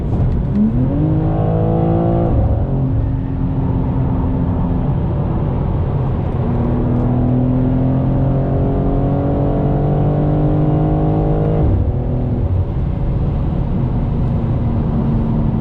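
A BMW M2 accelerates hard through the gears from inside the cabin, its engine note rising in long sweeping pulls with shift breaks between them, loud and continuous with no talking.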